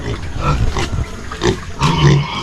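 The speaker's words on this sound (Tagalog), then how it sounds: "Pero bibisitahin ko lang yung mga baboy nila dito." Pigs on a farm in Mindanao grunt loudly and close by, giving several short rough bursts in quick succession over a low background of shuffling and snorting, with no talk.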